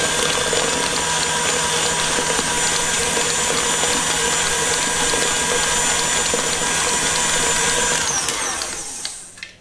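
A kitchen blender runs loud and steady at high speed, whirring continuously as it blends passion fruit pulp, then slows and winds down in the last moment.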